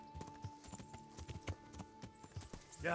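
Horse hooves clip-clop in a steady walking rhythm in the medieval video game Kingdom Come: Deliverance, about a dozen distinct hollow thuds close by, with faint ambient tones beneath and no talk.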